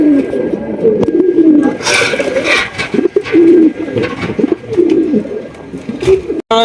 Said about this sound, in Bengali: আরো একজোড়া পটার কবুতর